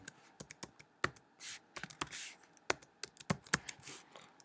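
Quick, uneven keystrokes come from a computer keyboard close by, with a few longer swipes mixed in. No voices are heard.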